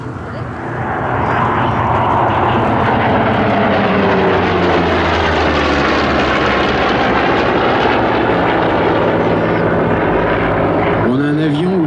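A warbird with a large four-metre propeller roars steadily and loud at an air show, its piston engine droning with a throbbing, sweeping pitch for most of the stretch, then cutting off abruptly near the end.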